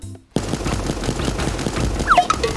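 Rapid gunfire in the cartoon battle-royale game Super Animal Royale, a dense steady barrage of shots with a few higher electronic game blips near the end, no talking.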